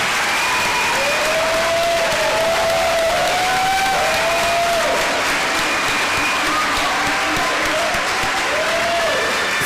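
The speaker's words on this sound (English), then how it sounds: "We also wish to recognize these young ladies by having them stand so we can give them a round of applause." A large audience gives sustained, dense applause for a group of young women athletes standing at an awards ceremony, with scattered cheers and voices mixed in throughout.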